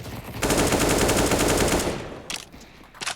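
Rapid automatic gunfire in CS:GO rattles loud and continuous for about a second and a half, then fades, followed by a few sharp isolated shots near the end.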